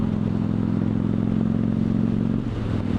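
A Victory Judge motorcycle's big, heavy lugging engine runs close by, a loud, steady low-pitched rumble with a rhythmic throb and mechanical clatter, shifting briefly near the end.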